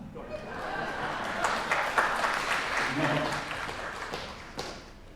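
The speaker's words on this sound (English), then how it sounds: "Please clap." An academic lecture audience claps at the speaker's request, a moderate round of applause with scattered sharper claps, accompanied by some talking or murmuring in the room.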